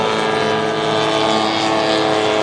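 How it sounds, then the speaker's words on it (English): An RC model Piaggio business turboprop flies overhead at the Joe Nall airshow, a steady, loud droning propeller and engine whine filling the air throughout, with a faint hum of other model aircraft behind it. "There's the Piaggio, that little Italian business jet that I showed you, business turboprop, there it is, flying over Joe Nall."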